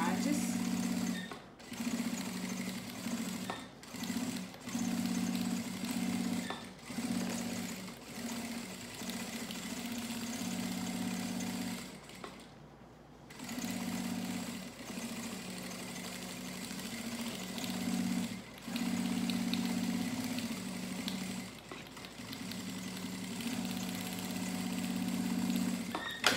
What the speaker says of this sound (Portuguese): passei uma costura em toda a volta, ficando essa aba aqui na parte de dentro